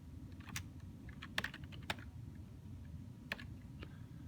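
Quiet typing on a computer keyboard, with a few scattered key clicks over a low steady room hum, close but faint.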